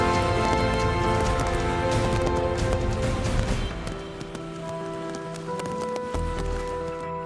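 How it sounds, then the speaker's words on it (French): Heavy summer rain pours down steadily beside a carp fishing spot, a dense hiss of drops that is loud at first and then eases into a softer, steady patter. "là il pleut sévère"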